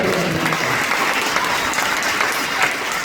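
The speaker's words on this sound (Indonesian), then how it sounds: "Yang setuju tepuk tangan dulu ya." A church congregation at a revival service applauds, a dense, steady wash of many hands clapping throughout, fairly close and full.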